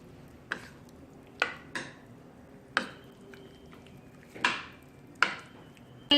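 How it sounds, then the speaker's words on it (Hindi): Mongolian chicken ingredients are mixed in a bowl, producing six or so distinct wet clacks and scrapes spaced about a second apart, close and clear against a quiet background. "इसको अच्छे से मिक्स कर लूंगी।"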